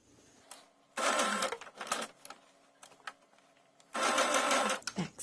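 A sewing machine stitches a fabric eye onto a handmade stuffed toy sloth in two loud, close bursts with a short pause and softer clicks between them.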